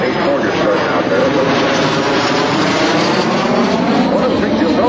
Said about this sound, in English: One of the things you'll notice when you roll the airplane, as Dan did there